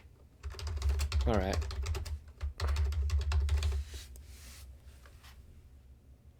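Someone types quickly on a computer keyboard in a podcast setting, with dense clattering keystrokes in two bursts, and a voice speaks briefly in between.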